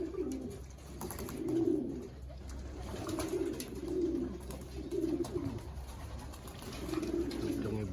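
Stock pigeons cooing while bathing, soft repeated low coos in rhythmic bursts about every second, close but quiet over light background noise.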